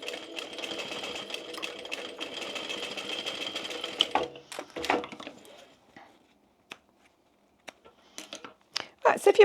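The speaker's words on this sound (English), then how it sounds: "flip it down and sew across the other one" A sewing machine stitches across a gift bag in a steady, close whir for several seconds, then stops, followed by scattered clicks and handling noises of fabric and tools.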